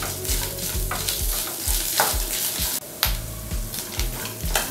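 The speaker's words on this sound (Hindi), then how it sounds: "अब इन सबको अच्छी तरह से रोस्ट कर लेते हैं, फिर से लगभग एक मिनट तक हम पकाएंगे।" Coconut, dry red chillies and a little tamarind roasting in a pan, a close sizzle broken by repeated rhythmic scraping as a spatula stirs them around, with no talking.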